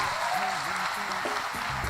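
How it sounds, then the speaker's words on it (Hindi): An audience at a Vestige award function in Surendranagar applauds in a steady, dense wash of clapping for about two seconds, with tonal voices or music threading through underneath. "जोरदार तालियां हो जाए"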